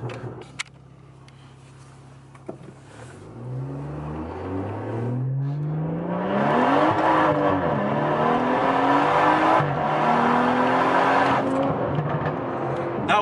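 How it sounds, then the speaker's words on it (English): BMW F30 with a JB4 tune accelerating hard, engine note sweeping sharply upward after a quiet idle with a couple of pops, then roaring loudly through rising revs and gear changes. "That was actually the pull from the JB4."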